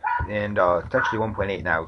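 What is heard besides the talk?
dogs yapping in the background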